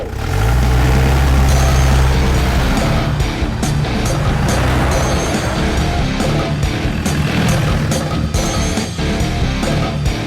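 A car engine roars loudly and steadily as the vehicle pulls away, with a low rumble fading slightly over time.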